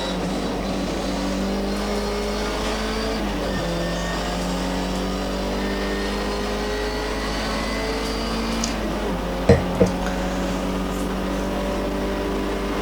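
MGB historic race car engine at Donington Park, loud and continuous from on board, rising in pitch through repeated gear changes as it accelerates, with a couple of brief knocks near the end.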